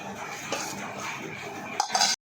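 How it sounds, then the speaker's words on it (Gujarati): Tomatoes and mixed vegetables are stirred in a cooking pan for vegetable pulao, with a spoon scraping and clinking against the metal, ending in a couple of louder clanks before cutting to silence. "તેમાં નાખી દઈશું આ રીતે હવે આપણે બધું મિક્સ કરી લેવાનું છે"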